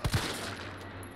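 Two quick handgun shots in Resident Evil 3 Remake crack right at the start, one after the other, followed by a fading echo tail and a low steady hum.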